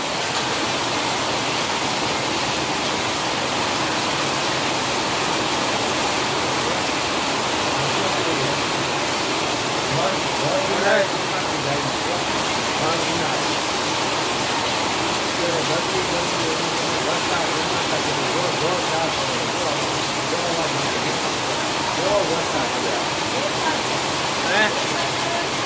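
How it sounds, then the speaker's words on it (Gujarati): Heavy rain falling in a residential street, a dense, loud and unbroken roar of water that holds steady throughout, with a voice faintly heard beneath it. "હા, જોવો અમારો વરસાદ."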